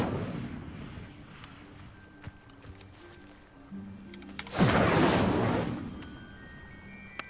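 Incendio fire spell cast in Hogwarts Legacy: a loud, sudden whooshing burst of flame erupts after a quieter stretch of game ambience, roaring for about a second and a half before fading back down.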